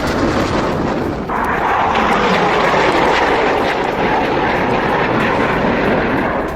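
Chinese J-10C fighter jets flying overhead, a loud, steady broadband engine roar that holds for several seconds and swells slightly partway through, with no talking.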